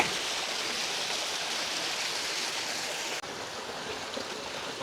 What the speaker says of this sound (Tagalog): Pangatlong mini falls.